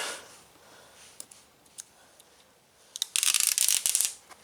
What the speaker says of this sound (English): let me get this sticker off of it